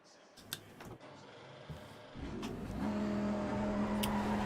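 A race car engine in Assetto Corsa Competizione builds from a low idle into a steady, rising drone as the car pulls away on cold tyres. It sounds close and fairly loud, with a few sharp clicks early on.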